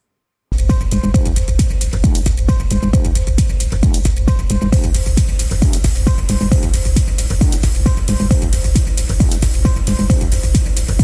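A loud, steady music loop plays with a crisp, repeating hi-hat ticking in a tight rhythm over a thudding beat, continuing without pause.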